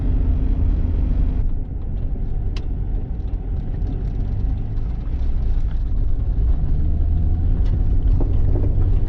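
A 1998 Jeep Cherokee XJ rolling along a gravel road, with a steady low engine and road rumble and a continuous crunch of tires on loose stones, loud and close throughout.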